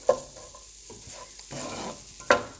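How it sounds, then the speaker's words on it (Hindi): Vegetables fry in a pan on medium heat for a spiced veggie macaroni, with a soft, steady hiss broken by a couple of sharp utensil clinks at the start and end. "इतना फ्राई करेंगे कि सब्जियां जो हैं वो पक जाएं।"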